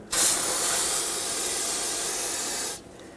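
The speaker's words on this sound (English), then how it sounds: "Use some brake parts cleaner if needed to rinse off the brake fluid." Brake parts cleaner sprays from an aerosol can to rinse brake fluid off a rear brake caliper on a 2011-2016 Ford F-350 pickup. A steady, loud, close hiss lasts nearly three seconds and then cuts off.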